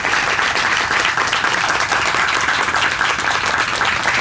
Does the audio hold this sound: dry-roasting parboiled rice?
no